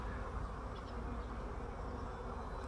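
Honey bees swarm and cover their queen in a backyard hive split, making a dense, continuous buzzing hum that stays faint and even throughout.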